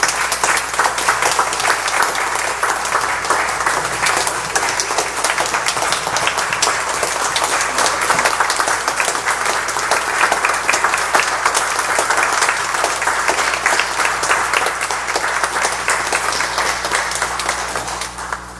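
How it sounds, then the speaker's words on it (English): A community audience gives a standing ovation during a service recognition for Rick Galyean, dense sustained applause that holds steady and loud for the whole stretch without a break. "Stand up, give him a round of applause."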